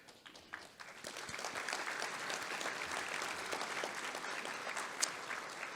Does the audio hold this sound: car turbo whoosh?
no